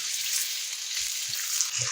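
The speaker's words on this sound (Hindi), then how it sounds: "तो हम इसको मिक्स करेंगे, फ्राई करेंगे हम यहाँ पर जब तक इसका कलर चेंज नहीं हो जाता है।" Chicken and onions frying in a pan, a dense, steady close sizzle throughout with faint low knocks of stirring.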